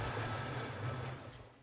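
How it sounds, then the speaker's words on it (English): In the post-apocalyptic horror game Metro, a telephone rings with a harsh, trilling bell under a low rumbling ambience, brief and fairly faint. "We also see a phone that rings."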